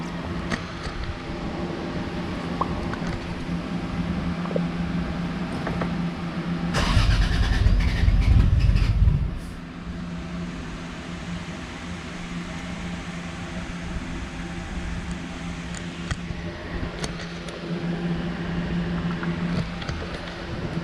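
A Lexus IS300 engine cranks and catches, a louder burst of starter and firing for a couple of seconds, then settles into a steady idle under a constant background hum.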